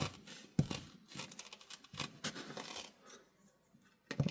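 A knife slicing through abrasive natural cordage, a few close, crisp snipping and rasping cuts with quieter fibrous scraping between them.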